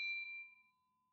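Notification bell sound effect: a single bright ding rings out close and clear, then fades away over about a second with no talking.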